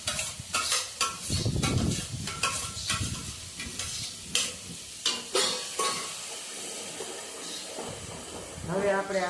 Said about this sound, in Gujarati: લસણને થોડુંક અંદર સતળાવા દેવાનું છે। થોડુંક લાલાશ આવી જાય ને ત્યાં સુધી